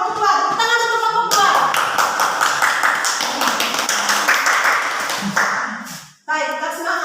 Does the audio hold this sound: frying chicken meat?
no